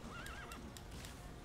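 A horse whinnies in a rising and falling call over a steady background rumble and faint hoofbeats, in the video game Metal Gear Solid V.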